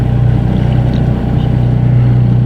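A narrowboat engine runs steadily and close by, a deep continuous throb with a strong low hum and no pauses, while water that is not cooling the engine top properly comes out from the bottom of the engine.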